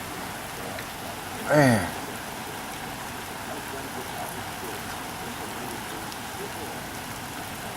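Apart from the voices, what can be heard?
heavy rain falling at a pigeon farm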